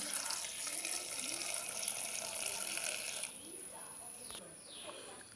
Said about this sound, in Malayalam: ഇനി ഇതിലേക്ക് കുറച്ച് വെള്ളം ഒഴിച്ചു കൊടുക്കാം.